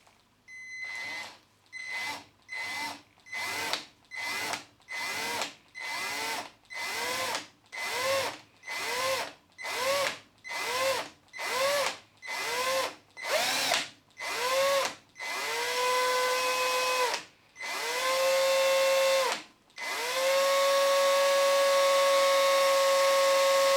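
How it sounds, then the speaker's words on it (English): A power drill fitted with a Trend Micro Grabit bit whirs in about fifteen short repeated trigger pulses on a stripped screw in a key fob, then runs in longer rising whines and a final sustained spin, close and loud. "I'm going to press down on the drill and apply some pressure, and then I'm going to squeeze the trigger gently"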